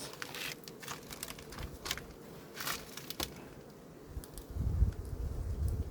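Steady insect buzzing from many somewhat agitated honeybees close by at an opened hive, with rustling and brief handling knocks over a low rumble.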